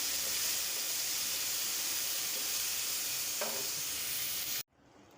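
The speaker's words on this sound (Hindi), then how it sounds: "हल्दी ये डालें, इनको भी थोड़ा सा हमने सौते करना है।" Turmeric and tomatoes sauté in a pan for dhaba-style mash daal, giving a steady, close, loud sizzle that runs almost unbroken and then cuts off abruptly near the end.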